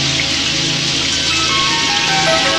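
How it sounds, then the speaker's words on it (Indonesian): Heavy rain pours in a dense, constant hiss with no breaks, loud and close, with no voices. "hujannya deras, masuklah"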